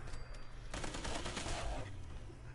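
Quiet bursts of rapid automatic gunfire from a video game played on PS4 and heard through headphones, with a dense run of shots in the middle of the stretch and no talking.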